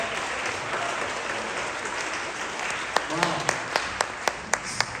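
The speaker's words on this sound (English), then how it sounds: "another big, huge round of applause for the Pico Union Project and 10 years of service" Audience at the Pico Union Project's 10-year anniversary event gives a big round of applause, dense crowd clapping that thins toward the end as a few isolated, sharp claps stand out.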